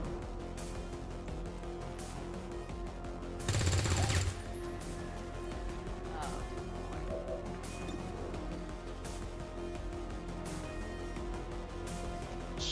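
A single loud, crackling burst of gunfire from a strafing shot in the XCOM 2 video game, standing out briefly against constant background game sound.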